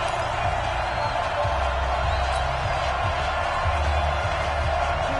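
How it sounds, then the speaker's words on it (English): Stadium crowd noise at an NFL football game between the Lions and Buccaneers, a steady dense roar building ahead of a big third down, continuous and fairly loud with no distinct talk on top. "the crowd getting into it as we come up on a big 3rd down"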